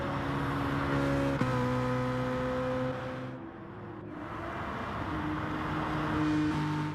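Race car pulling out of the pits at Suzuka in a racing video game, a steady loud engine drone with shifting tones as it accelerates away, no voices over it.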